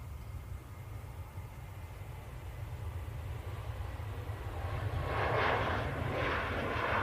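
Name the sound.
Jet2 Boeing 737 airliner at Manchester Airport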